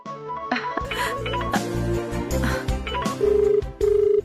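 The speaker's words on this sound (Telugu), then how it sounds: "పూజారి గారే ఫోన్ చేస్తున్నారు." A telephone rings with an incoming call in a Telugu TV serial scene, giving two short electronic ring bursts near the end over steady background music, fairly loud and close.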